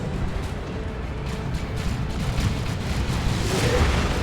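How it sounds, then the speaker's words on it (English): Off-map artillery strikes in a Warhammer 40k Dawn of War 2 3v3 battle, a continuous rumble of deep booms and blasts rolling over each other at loud, steady intensity. "Off-map artillery indeed."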